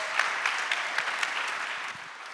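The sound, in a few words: audience applause after a panel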